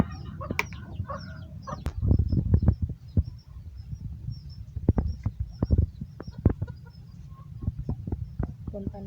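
Backyard chickens clucking and calling at a coop as they are fed, with short bursts of clucks and squawks, some near and some farther off, over a steady rustling background and intermittent sharp knocks.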